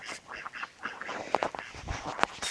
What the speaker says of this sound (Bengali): মানে হাঁস আছে